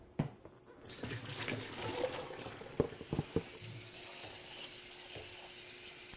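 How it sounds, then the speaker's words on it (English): Pickles are rinsed under cold water running from a kitchen tap, a steady splashing stream close by with a few sharp knocks and clatters of jars or utensils in the sink. "what we're going to do is rinse them thoroughly with"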